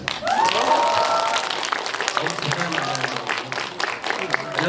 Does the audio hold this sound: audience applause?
yes